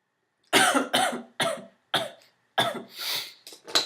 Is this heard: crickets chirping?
no